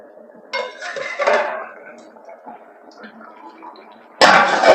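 Metal lid lifted off a pot of boiled potatoes, a few clinks and scrapes of metal cookware, faint steam and a louder clatter at the end, with a voice speaking briefly.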